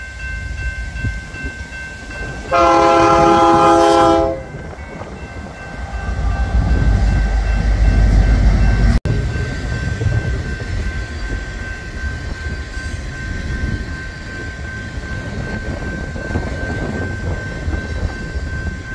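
A westbound BNSF freight train on the Peoria Sub at 78th Street in Shawnee, Kansas sounds one loud, sustained horn blast, then rumbles past steadily with a continuous rolling roar of wagons.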